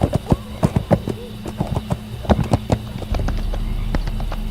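A horse named Providence gallops in a Splatterhouse video game cutscene. Its hooves strike in sharp, close clip-clop beats, and a low rumbling bed builds toward the end.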